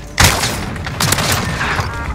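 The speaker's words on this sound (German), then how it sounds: "Oh ja, der ist explodiert." A sudden loud explosion followed by bursts of rapid gunfire in a shooter video game, sharp cracks overlapping with booming impacts close up.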